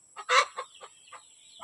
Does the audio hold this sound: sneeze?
no